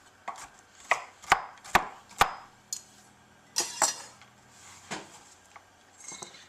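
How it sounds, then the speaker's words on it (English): A knife rough-chops nuts on a cutting board for baked stuffed apples, a series of sharp, close thuds in quick bursts with short pauses between. "I'm just going to take a knife, give these a rough chop"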